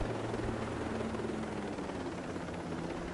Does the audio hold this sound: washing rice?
no